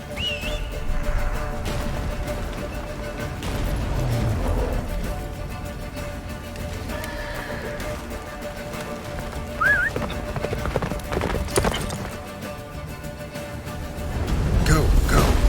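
A horse galloping in The Witcher 3 during a snowstorm ride to a fortress, rhythmic hoofbeats with some whinnies and whistling wind, while game characters talk over it.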